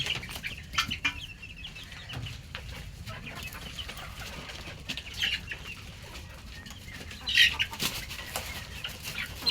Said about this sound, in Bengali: এটা হলো দেশি মুরগি